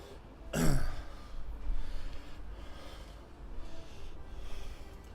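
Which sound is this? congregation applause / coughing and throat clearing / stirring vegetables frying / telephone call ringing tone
coughing and throat clearing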